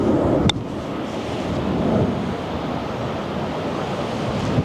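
Wind gusting across an open golf course, a loud steady rushing roar with buffeting against the microphone and a sharp click near the start.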